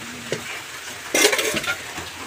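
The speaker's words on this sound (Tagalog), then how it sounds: "Mag-ihaw tayo mama ng suran." Suran fish grilling on a hot grill gives a brief, bright sizzle over a steady low cooking hiss, with a few faint clinks.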